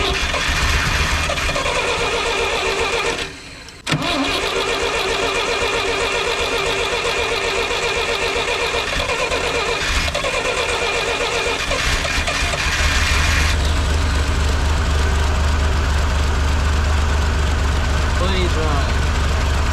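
A 1958 Lull cherry picker, left sitting for 15 years, tries to start and runs roughly, its engine noise steady and loud with a brief dropout, growing into a heavier low rumble near the end while someone talks.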